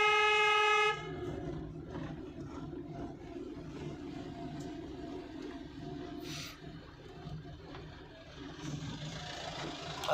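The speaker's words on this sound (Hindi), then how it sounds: "लॉन्ग हॉर्न पुश करिए" A long, loud car horn blast with steady harmonic tones right at the start, warning an oncoming truck, then traffic and engine rumble continue in the background.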